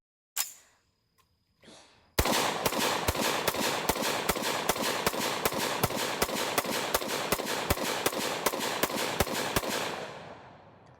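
A rifle fires twenty rounds of .223 ammunition loaded with black powder, a long steady string of loud, sharp shots at an even rhythm, each crack ringing briefly, preceded by a couple of faint handling knocks.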